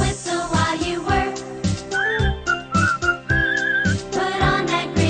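A person whistles a bright melodic tune over a backing song with instruments, the whistle weaving in clear sustained notes in the middle of the passage.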